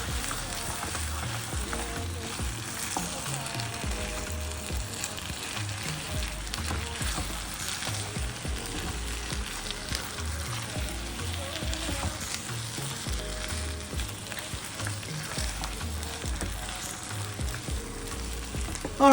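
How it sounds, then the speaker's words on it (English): Spinach soup stirred in a pot, with a continuous bubbling sizzle and a steady, repetitive stirring rhythm that runs throughout with little change in loudness. "So I'm gonna go stir and stir away."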